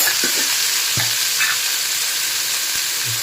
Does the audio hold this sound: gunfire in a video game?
no